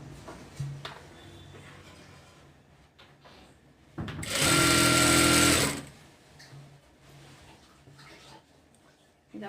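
Sewing machine stitching a half-inch strip along the bottom of an umbrella frock's cowl sleeve: one loud, steady whirring run of about two seconds, with quiet room sounds before and after.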